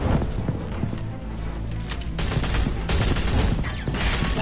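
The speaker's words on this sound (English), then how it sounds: "Why would you just shoot the person who's right next to you?" Gunshots in the Batman Telltale Series game: a rapid, dense fusillade of sharp cracks repeating throughout, loud and close amid chaotic action noise.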